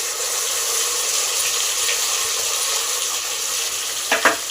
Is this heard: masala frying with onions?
yes